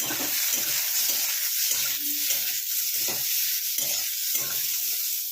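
Mango pieces with a thick stone frying in a pan and being stirred for mango chutney: a constant close sizzle of hot oil broken by regular scraping strokes of a spatula, with no talking.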